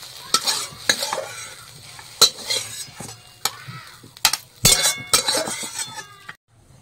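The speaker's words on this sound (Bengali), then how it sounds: "এখন পাট শাকটা নাড়িয়ে দেবো।" Jute leaves frying in a wok get stirred with a metal utensil, giving sharp, irregular clinks and scrapes against the pan over a soft, steady sizzle, close by with no talking.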